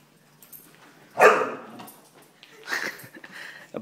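A Siberian husky gives a couple of short, close barks and whimpers at a rolling toy hamster ball, with quiet pauses between the yelps.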